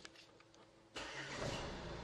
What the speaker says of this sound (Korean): 일단 시동부터 한번 걸어볼 건데요